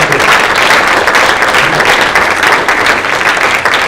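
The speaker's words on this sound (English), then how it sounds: "I'd like to have another round of applause for our excellent panel of judges" An audience at a business plan competition gives a loud, dense round of applause for the panel of judges, a continuous wash of clapping that holds steady from start to finish.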